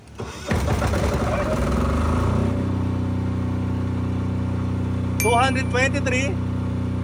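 A Philking PK10000 generator engine cranks and catches after a remote start, settling into a steady, loud idle hum with a few voice-like tonal bursts near the end.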